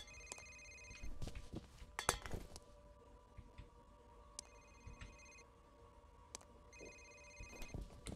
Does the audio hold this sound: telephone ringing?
yes